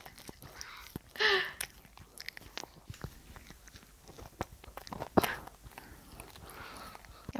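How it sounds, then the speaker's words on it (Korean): A 33-month-old toddler bites and chews a homemade waffle close to the microphone. Soft wet chewing and a few sharper crunchy bites sound in a quiet room, with light rustles between them. "냠냠 먹는 소리가 너무 귀엽잖아요."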